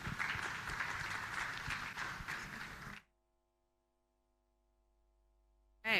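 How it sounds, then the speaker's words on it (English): Audience applause for panelists at a big data in agriculture convention, sustained crowd clapping that stops abruptly halfway, followed by near silence and a brief burst at the end. "let's have another round of applause for our lovely panelists"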